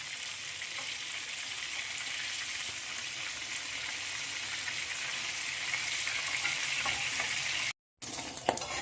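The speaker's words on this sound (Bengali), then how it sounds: "গ্যাসটা কিন্তু খুব কমিয়ে ভাজতে হবে, না হলে মাছের ভেতরটা কাঁচা থাকবে।" Bombay duck fish fritters fry in oil over a low gas flame, giving a steady, dense sizzle that holds throughout, broken only by a brief near-silent gap near the end.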